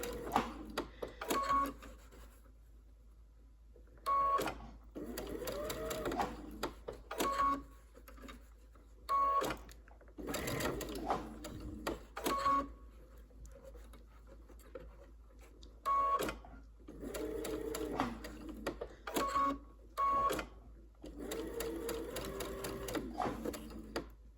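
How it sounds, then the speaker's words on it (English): A sewing machine stitches a curved seam in repeated short runs of fast, steady mechanical whirring, separated by pauses with soft handling of fabric and an occasional faint voice. "sewing a few stitches, taking my left hand, grabbing the fabric, moving it a little further behind the presser foot down"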